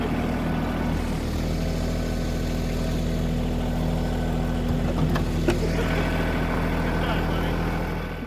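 A tractor engine idles with a steady low rumble throughout in a rural Alaska setting, while people talk over it.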